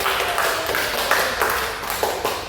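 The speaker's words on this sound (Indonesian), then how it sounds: "Kita kasih tepuk tangan." A small group in a classroom counseling session claps hands together in a short, uneven burst of applause, close and fairly loud, with quick overlapping claps for a few seconds.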